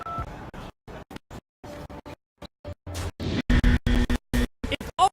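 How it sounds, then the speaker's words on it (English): A cell phone ringtone of two keypad-style beeps in the Hearthstone card game, among choppy, clipped bursts of sound separated by short silences. "I guess her ringtone is just 2 keypad beeps"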